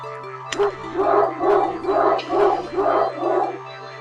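A dog barks in a rapid run of about six yappy, evenly spaced woofs, close and fairly loud over a steady background hum.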